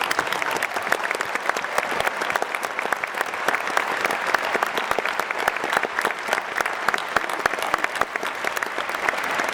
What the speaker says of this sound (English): Let's give the class of 2019 a round of applause for representing us.